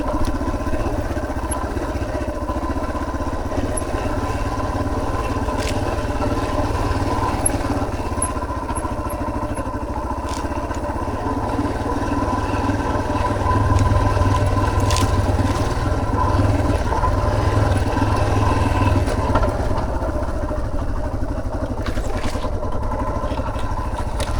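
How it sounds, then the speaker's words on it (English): Motorcycle ridden through sand on a steep trail at Red Hill, Washington State: a steady engine drone with scraping and clattering throughout, loud and close, with no voices. "So basically we're riding through sand right now."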